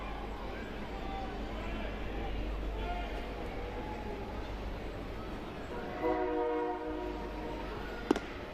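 A train rumbling past in the background at a college baseball game, a continuous low drone with a horn sounding briefly near the end, under steady talk from an announcer.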